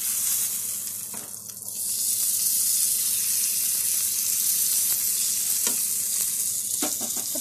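Grilled chicken sizzles steadily in a hot pan, the broadband frying hiss continuous and close throughout. A few brief knocks and scrapes sound as the pieces are turned, and no one speaks.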